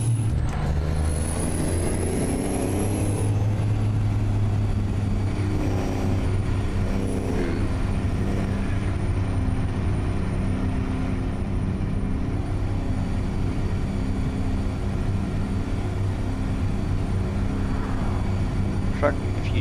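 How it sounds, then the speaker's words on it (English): Heavy truck in a modded trucking video game rolling with its brakes applied, a loud continuous low engine drone and rumble with a brief high hiss early on, steady throughout. "the truck is got the brakes applied so that we don't do over 60"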